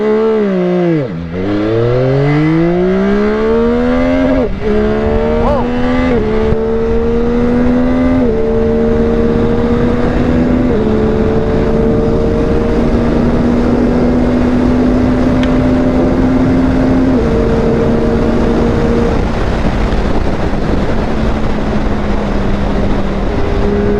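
A Yamaha R9 motorcycle launches with launch control, its engine screaming close and loud as the revs climb and drop through several quick gear shifts over a sustained pull.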